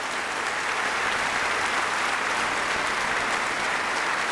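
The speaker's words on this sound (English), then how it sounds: "maybe you want to save your applause" Audience applause fills a hall at a basketball Hall of Fame induction ceremony, a steady, dense wash of many hands clapping that continues evenly throughout without any voice over it.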